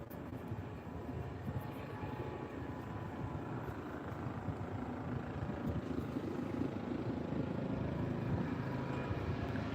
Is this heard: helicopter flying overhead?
yes